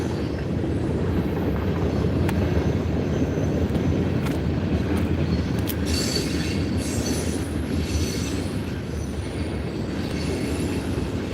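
A train rolls steadily past on a railroad track, a loud, continuous rumble of wheels and wagons with occasional high squeals and clicks, sustained for the full eleven seconds.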